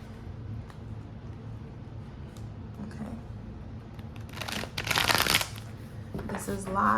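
Tarot cards shuffled by hand in a quiet room, soft riffling bursts toward the end over faint background hum, with a person speaking nearby.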